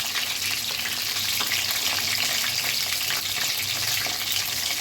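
Eggplant fries in hot oil with a steady, loud, crackling sizzle that never lets up, close to the pan.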